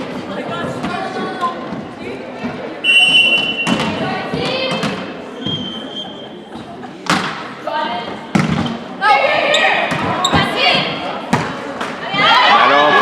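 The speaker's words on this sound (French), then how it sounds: "Au service donc pour les Libellules, Camille Rondeau." Volleyball served and struck during a girls' under-15 semifinal match in a gym, with several sharp thuds of ball contact over crowd noise and a commentator talking.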